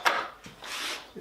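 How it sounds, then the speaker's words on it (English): Box clamps being fitted onto a timber vase holder, giving a short sequence of close wooden rubbing and scraping with a brief knock, all over about a second. "time to put on the box clamps."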